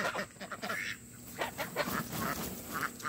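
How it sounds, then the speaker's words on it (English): Ducks on a farm quack and honk in repeated bursts as they come toward a pool, fairly close and lively, with farmyard background noise. "Here come the ducks."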